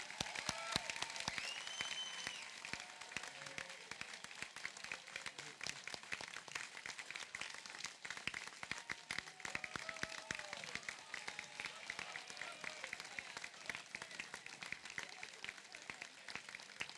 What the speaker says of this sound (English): join me in a round of applause for the entire graduating class of 2018